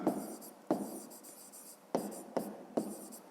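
Pen scratching on paper as math workings are written out for a fifth-grade exercise, close and fairly quiet, with several sharp taps at the start of strokes and a soft continuous scrape between them, no voices.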